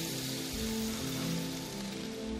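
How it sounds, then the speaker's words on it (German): A steady wash of large raindrops patters densely on a surface, constant and fairly close, with a low tonal hum underneath. "Größere Tropfen fallen vom Himmel."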